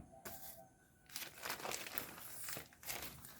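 Courier package packaging being unboxed, crinkling and rustling close by in a few uneven bursts over a quiet background, no talking.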